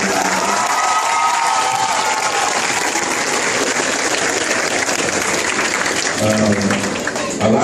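Students in a school cafeteria applauding and cheering loudly, a sustained roar of clapping with shouts and whoops throughout, swelling again near the end.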